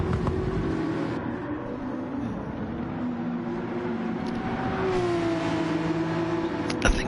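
Audi race car engine in a racing video game, a steady raspy drone with rising and falling pitch as the car accelerates and shifts, close and continuous, with a brief click near the end.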